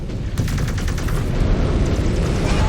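Enemy Union dropship turrets firing in MechWarrior 5: Clans, a dense, loud barrage of rapid shots over a constant rumbling roar of battle with no pause throughout.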